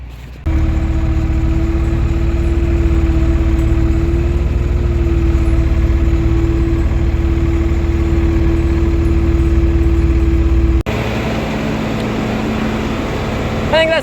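A TN75 loader tractor's engine runs steadily and loudly up close while the machine is moved, a constant droning hum that shifts to a slightly different, thinner tone near the end.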